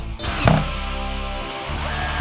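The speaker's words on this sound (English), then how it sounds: "I am adding the final decorative metal corner to the sides using our third tool, the drill" A power drill whirs steadily up close for about two seconds, fastening a decorative metal corner onto a frame, its motor droning with a brief louder burst partway through.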